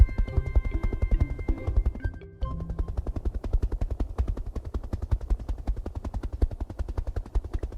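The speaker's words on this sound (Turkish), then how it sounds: "Bu da helikopter." A cartoon helicopter in a children's animated show makes loud, steady rotor chopping, a fast regular thwacking pulse that runs throughout with a brief dip partway, and no voices over it.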